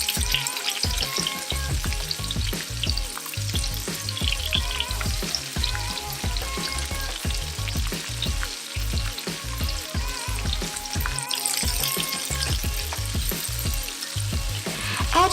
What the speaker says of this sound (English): Here I used chopsticks to flip the shrimp over instead of a spatula